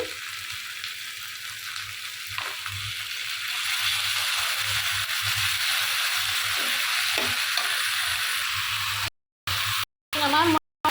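Steady, loud sizzling of a paste of ground green chillies, dried chillies, garlic and cumin frying in a hot pan, continuous with small stirring scrapes, ending in a few abrupt cuts.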